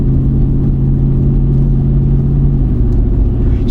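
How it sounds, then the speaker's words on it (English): An old V8 car engine with about 253,000 miles runs steadily while driving, a loud low drone holding even before the pitch drops as the transmission shifts near the end, with no talking. "That's a sweet sound of V8, as old as it is."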